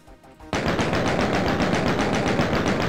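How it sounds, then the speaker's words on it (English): Rapid sustained chain gun fire in the Doom video game, a dense loud burst that starts abruptly after a short quiet lead-in and continues without pause. "Y'all can't stand the power of the chain gun."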